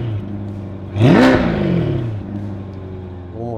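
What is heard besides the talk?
C8 Corvette exhaust revving with Paragon Performance sport cats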